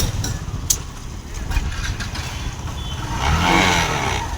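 A motorcycle engine runs during a ride toward Jorhat past tea gardens, a steady low rumble that grows a little louder near the end, with wind and road noise over it.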